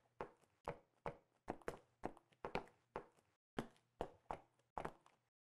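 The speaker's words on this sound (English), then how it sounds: "maybe, you know, we just want to listen to the footsteps" Game footsteps play alone on a soloed Unreal Engine submix, about a dozen crisp, evenly paced steps on a hard surface, close and clean, each with a short decay.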